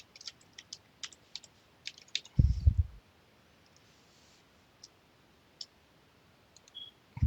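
Someone types on a computer keyboard in a quiet room, with light, scattered key clicks, short bursts and a louder thump partway through.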